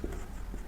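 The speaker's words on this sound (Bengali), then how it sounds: "এবার আমাকে এটা লিখতে হবে।" Pen or chalk writing by hand during a Bengali class 7 math lesson on proportion, a soft continuous scratchy stroke lasting under a second, fairly faint and close with no talk over it.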